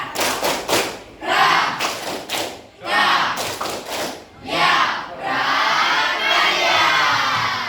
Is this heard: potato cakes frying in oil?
no